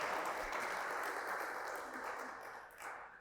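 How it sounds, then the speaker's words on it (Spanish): Members of a church congregation applaud to encourage the young people, a faint, even wash of clapping that softens slightly toward the end. "Un aplauso de cariño para animar a nuestros jóvenes."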